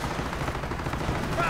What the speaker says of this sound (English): this Panther is actually getting hit by anti-tank gunfire